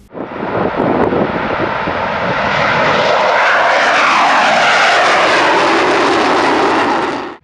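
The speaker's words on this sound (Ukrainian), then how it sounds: "Ось на таких винищувачах Су-27 практикують миргородські військові пілоти." A Su-27 fighter jet at a military airfield near Myrhorod roars past, its sound swelling quickly to a loud, sustained jet howl with a sweeping pitch shift as it passes, then cutting off, with no voices.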